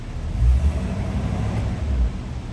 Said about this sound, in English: you turn the key on and press the gas, and it starts, and that's running